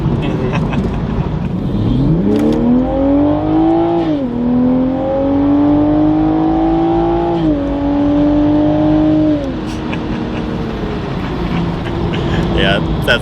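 Toyota Supra A90 fitted with a cold air intake revs up, holds a raised rising drone, and settles back in stepped blips, loud and close, with people talking around it.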